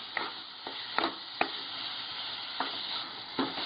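Red chili masala fries in oil for a chicken dum biryani gravy: a bright, even sizzle with a handful of sharp spoon taps and scrapes spaced across the stirring.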